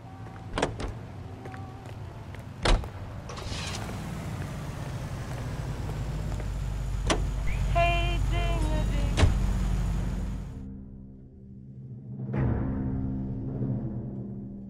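An ambulance in L.A. Noire drives with a steady engine drone that swells and fades, punctuated by sharp clunks and a siren-like tonal passage, ending in a quieter idle.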